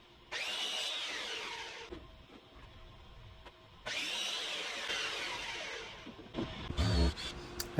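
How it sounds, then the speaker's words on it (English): A power drill bores pilot holes into wooden boards at a farm in Leyte, Philippines, in two whirring bursts of about two seconds each, followed by brief clatter and handling noises, with no talk. "I pre-drilled the holes needed to screw in the boards to the supporting blocks."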